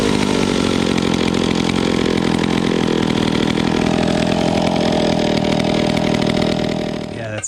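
A vintage IEL Pioneer chainsaw starts up and runs close by, its loud, raspy two-stroke drone holding steady for about seven seconds before easing off at the end.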